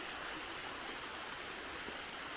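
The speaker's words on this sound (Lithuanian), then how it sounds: "Mini kriokliukas, va toksai nuo kalno bėga" A small mountain waterfall stream running through a Tatra forest gives a steady, even rush of water, soft and constant with no breaks and no voices.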